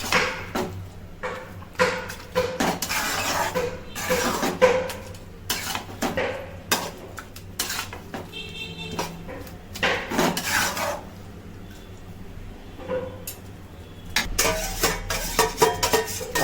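Onion, ginger and garlic being stirred in a pot for a Bengali mutton curry, with repeated scraping and rasping strokes of a utensil against the metal, irregular bursts and clinks, fairly close, with no talk.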